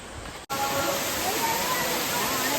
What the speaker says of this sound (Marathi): या उन्हामध्ये इथे धबधबा आहे.